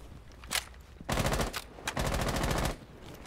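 Rapid automatic gunfire from a Rainbow Six Siege match, a short shot near the start followed by two loud sustained bursts of fast repeated shots.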